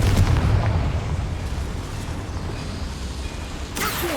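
Sustained rumbling blast from a fire spell explosion in the Hogwarts Legacy video game, loud and continuous across the whole stretch, with a fresh crackle near the end.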